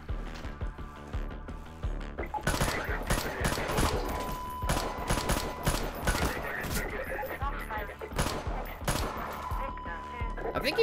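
Pistol gunfire in the video game Swelter: repeated sharp shots and rapid bursts over game sounds and mechanical clatter, with people talking under the action.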